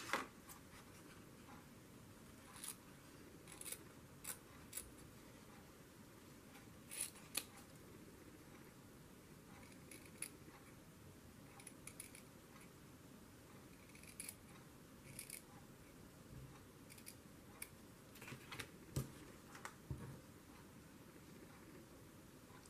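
Scissors snip out a traced shape for a sewn owl craft, a quiet, irregular series of sharp cuts alone over a faint room hiss.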